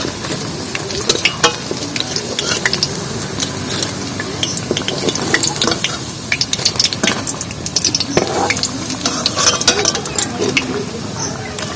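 Drumstick leaf fritters fry in hot oil, a steady close sizzle with bursts of crackle and occasional scraping of a spoon through the pan, continuing throughout without speech.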